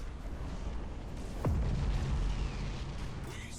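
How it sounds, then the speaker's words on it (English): Torpedo explosions in Battlefleet Gothic Armada 2, a deep booming blast with a falling whistle-like tone sweeping down into a low rumble, set against a constant dull battle drone. "Now here comes more torpedoes."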